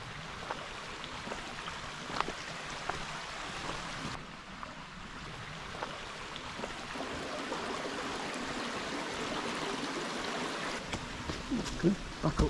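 Black Brook, a small stream that once drove a water wheel for a cotton mill, flows with a steady broadband rush, close and continuous, holding a constant level throughout with a few faint incidental knocks.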